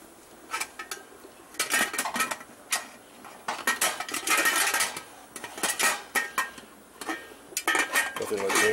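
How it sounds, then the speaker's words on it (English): Metal lid set onto a pressure cooker, clattering and scraping in several bursts of clanks and rattles with brief pauses, close by and fairly loud. "I just put the lid on it here."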